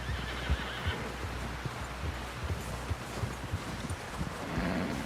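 A horse in Red Dead Redemption 2 whinnies amid clip-clopping hooves and steady wind-like ambience, the neigh fairly faint and blended into a continuous outdoor game soundscape.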